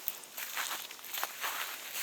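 Soft crunching footsteps on frozen, frosty grass, several steps at an irregular walking pace, close by and fairly quiet.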